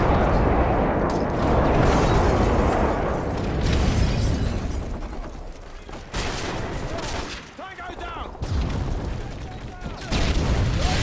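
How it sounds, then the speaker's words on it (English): Friendly airstrike explosions tear through a video game battlefield, rolling booms and crackling blasts mixed with scattered gunfire, loud and near, surging in waves over eleven seconds with brief drops between strikes. "Friendly airstrike on the way."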